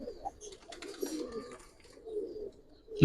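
Pigeons coo softly nearby in low, throaty murmurs across a few seconds, with a sudden louder thump or rustle at the very end.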